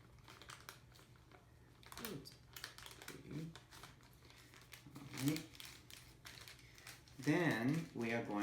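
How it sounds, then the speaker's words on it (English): Paper is peeled slowly off a slab of nama chocolate in soft, close crinkles and small tearing rustles, in irregular bursts with a quiet voice speaking in between. "make sure you gently peel the paper because sometimes it is sticking"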